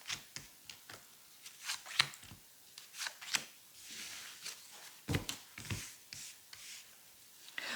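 Tarot cards being shuffled, drawn and laid down for a monthly astrology reading, heard as soft close-up papery riffles, slides and taps in irregular bursts, fairly quiet and with no voices.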